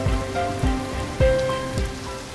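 Steady rain falls on the African savanna among acacias, a dense, continuous wash of drops with a few heavier thumps, close and fairly loud with no voices.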